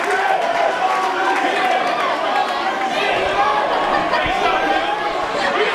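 A pumped-up crowd at a hardcore wrestling match fills the space with continuous loud chatter and shouting, a steady wall of voices with no single caller standing out.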